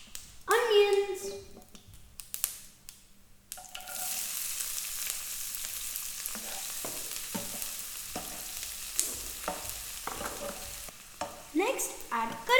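Onions frying in hot oil with dried chilies in a pan for idli upma, a steady sizzle with spoon-stirring scrapes, close up, with a few brief voices cutting in.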